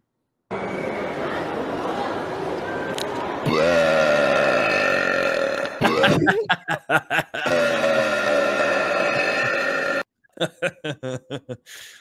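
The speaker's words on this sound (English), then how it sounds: "Yeah, that's a good burp." A long, loud, drawn-out burp sounds up close, with another voice joining partway through, then a few shorter throaty bursts at the end.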